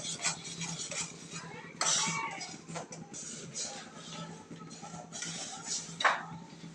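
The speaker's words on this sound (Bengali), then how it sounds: "মরিচের গুঁড়া দিয়ে দিল আবারও নাড়াচাড়া করতেছে" A utensil scrapes and clinks against a pan while prawns and spinach with chili powder are stirred, producing repeated close metallic scrapes over a soft sizzle, fairly quiet overall.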